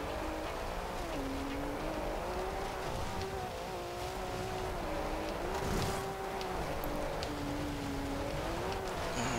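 Porsche 911 GT2 RS from 2012 in Forza Horizon 2, fitted with off-road tyres and converted to rear-wheel drive, holds a steady engine drone with wavering pitch throughout, loud and continuous with no talk.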